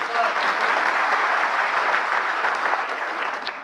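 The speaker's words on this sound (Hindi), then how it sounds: "तो ये तालियां जो हैं" An audience at a training session applauds steadily and densely for several seconds, a continuous wash of many hands clapping that fades slightly toward the end.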